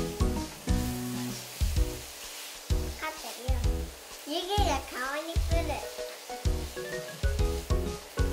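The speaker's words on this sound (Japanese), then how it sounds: "焼き上がったら炒めた卵を加えて軽く混ぜ、塩コショウ、塩麹で味付けをします。" Scrambled eggs being stirred into a sizzling stir-fry in a pan, with soft scraping and frying crackle under intermittent children's and adult voices in a home kitchen.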